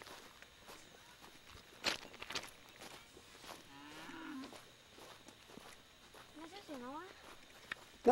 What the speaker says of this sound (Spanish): No, estas son vaquillas.